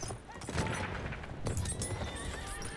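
Horse neighing and whinnying in the Battlefield 1 battlefield game, with clip-clopping hooves, loud and close across the whole stretch amid busy game noise.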